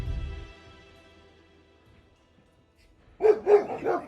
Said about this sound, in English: Look at these puppy dogs.